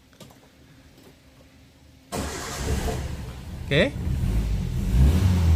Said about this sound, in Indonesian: Mesin hidup ya teman-teman.